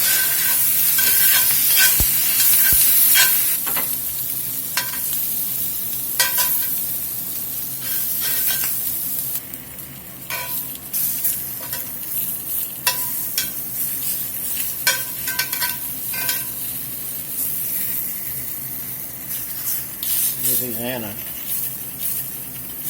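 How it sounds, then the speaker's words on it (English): Garlic sizzles and fries in a pan alongside roasting peppers, a steady crackling hiss with stirring clatter, running for over twenty seconds beneath intermittent talking. "I'm going to go ahead and lay my garlic in here and let it cook for about a minute with this."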